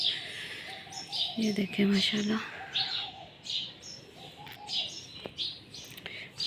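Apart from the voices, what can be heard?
birds chirping in the morning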